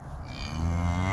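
A cow on a ranch lets out a single loud, drawn-out moo up close, low and rising in strength over about a second.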